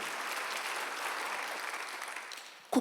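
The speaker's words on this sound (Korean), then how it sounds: "박수 하세요." Applause from a church congregation during a Korean Sunday worship service, moderately quiet and sustained, thinning toward the end before a brief sharp knock.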